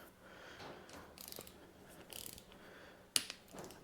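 A torque wrench tightens bolts on a 998 Turbo A-Series engine to 33 Newton meters, with faint close ratcheting clicks in short bursts and a single sharp click near the end.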